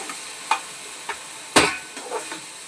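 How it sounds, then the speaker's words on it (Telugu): A spoon stirs a curry mixture with salt in a pan, making a few soft scrapes and one sharper clack against the metal, close up and sparse, with no talking. "ఇలా మిక్స్ అయ్యేలాగా మొత్తం కలిపేసుకొని"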